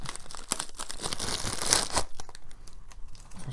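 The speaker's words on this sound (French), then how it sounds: "Je vais le déballer directement." Paper wrapping on a Disneyland Paris parcel crinkles and tears as it is unwrapped, a near, busy stream of crackling rustles with a louder rip midway before the handling eases off.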